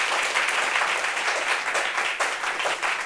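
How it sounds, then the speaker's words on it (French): Applause from a gathered audience at a family reunion event, a dense continuous patter of many hands clapping at fairly even loudness for a few seconds, with no speech on top. "Applaudissements."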